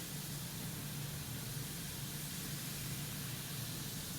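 Vinegar fizzing as it is poured in a colorful kitchen science experiment, a steady, soft hiss of bubbling that goes on without a break.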